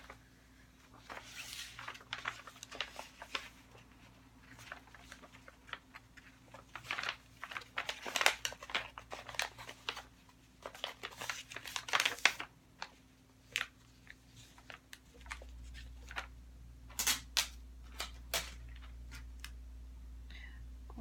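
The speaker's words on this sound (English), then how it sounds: "We're going to go ahead and carefully package that item." An item is packed by hand into a pre-labeled manila envelope, with soft paper crinkles, rustles and light handling taps coming in uneven bursts. The sounds are close but quiet, with a low steady hum underneath.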